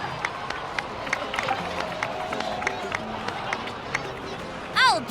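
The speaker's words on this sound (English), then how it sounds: "please give another round of applause for them" Crowd applause and cheering in a video game cutscene, a moderate steady patter of clapping with scattered shouts, heard alone at medium distance.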